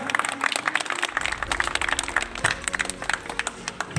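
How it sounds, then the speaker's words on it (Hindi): A crowd at a party office inauguration claps vigorously in a dense, rapid patter of many hands that runs throughout, fairly close and lively. "जोरदार तालियां।"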